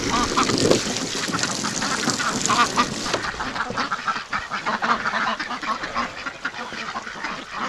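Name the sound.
ducks quacking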